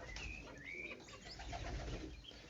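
Two young King pigeons, one dark red and one lighter, call softly in a breeding loft kept with pigeons and chickens, with faint, brief cooing and chirping sounds over a low, steady background and no talk.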